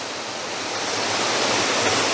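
Water rushes over rocks in a mountain stream in Shenandoah National Park, a steady broadband roar that stays close and constant throughout with no voices.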